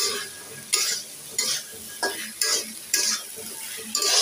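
Spices and boiled chickpeas fried together for ghugni, a steady sizzle broken by regular bursts of vigorous stirring, about seven scraping strokes in a few seconds, close and with no talk.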